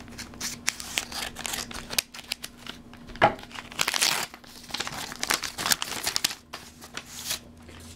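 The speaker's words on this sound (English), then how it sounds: "I have my scissors right here, I can cut it right open." Scissors snip and slice open a package of Pokémon cards amid crinkling plastic and paper rustles, a series of short close cuts and crackles.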